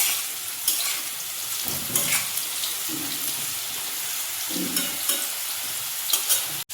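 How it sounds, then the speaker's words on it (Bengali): Pointed gourd fries in a wok, making a constant hiss of oil with occasional stirring clatter and faint running water. "বেগুন ভাজা নামিয়ে এই করার মধ্যেই পটল ভাজা বসিয়ে দিলাম"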